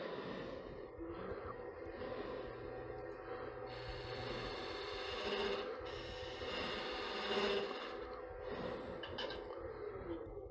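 Woodworking cut of a straight parallel cylinder for a push-fit box lid, a close mechanical grinding and ratcheting scrape that rises and falls in uneven strokes, alone without speech.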